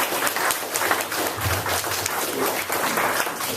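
A roomful of people at a Los Angeles council meeting applauds Mitchell with a burst of moderately loud, dense clapping that holds steady for a few seconds.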